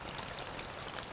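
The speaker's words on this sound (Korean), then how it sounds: "커다란 빗방울이 후두둑 떨어지기 시작했습니다." Large raindrops pattering steadily in a children's bedtime story, a dense, even wash of falling water with no voices, fairly quiet and close.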